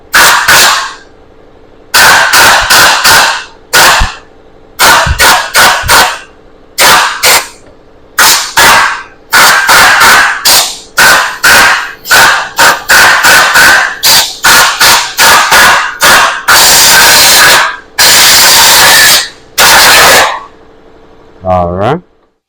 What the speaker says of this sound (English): So try to blow a little air in there.